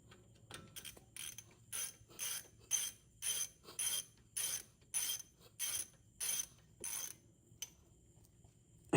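Ratchet wrench clicking in about a dozen rapid, evenly spaced bursts while snugging brake caliper bolts on a 2014 Jeep Patriot during a front brake pad job, close and clear with no talk.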